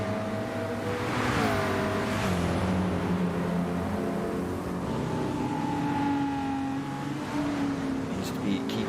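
A McLaren GT3 race car in a racing video game at Spa holds a steady, loud engine drone with rising and falling gear pitch throughout, while a commentator talks over it.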